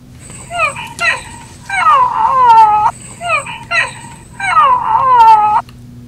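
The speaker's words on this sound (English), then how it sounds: "I hear this whimpering" An abandoned fawn whimpers in repeated high, wavering cries, four drawn-out bleating calls in two pairs, loud and close against a steady low hum, with no talk.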